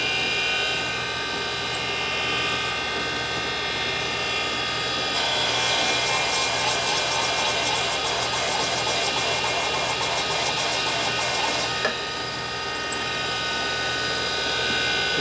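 Grinder working the cylinder surface of a Harley shovelhead engine flat, a steady loud mechanical whirring and rattling that runs continuously, growing harsher and brighter through the middle before settling back.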